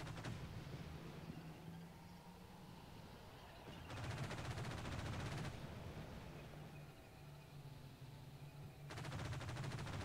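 Rapid automatic gunfire from infantry and vehicles in the war game Combat Mission: Shock Force 2, coming in sustained bursts of dense, rattling fire over a low rumbling engine drone, with quieter gaps between the volleys.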